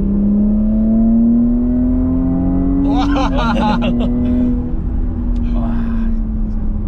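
Porsche Cayenne Coupe Hybrid with its sport exhaust switched on while driving: a loud, close engine drone rises steadily in pitch as the car accelerates, with people talking and exclaiming over it.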